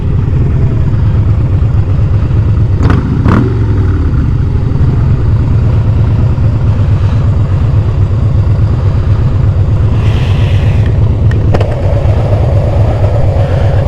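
A Harley Davidson motorcycle engine rumbles steadily at close range, idling and cruising with a low throb, with a couple of brief sharper noises partway through.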